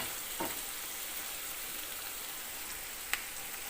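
Onions sizzle in a pan while baingan bharta is being cooked, a soft, steady frying hiss close up, with a faint stir near the start and one brief clink toward the end.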